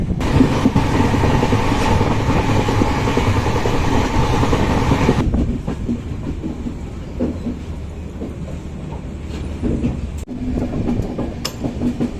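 The Prashanti Express running on rails toward Bengaluru, a loud, steady rumble and rhythmic clatter of wheels heard from inside the moving train, with a brief sharp clack near the end.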